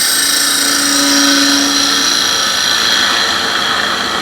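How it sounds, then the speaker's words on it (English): A wood lathe hollowing a bowl as a scraper shear-scrapes the rim, giving a loud, steady high whine with a continuous gritty hiss, close and unbroken throughout. "Now I'm basically shear scraping at this point here,"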